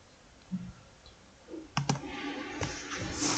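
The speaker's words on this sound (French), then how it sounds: "je clique sur créer" Computer mouse clicks on a PC during software setup, a few faint isolated taps followed by a sharp double click, then steady background noise with a quiet voice.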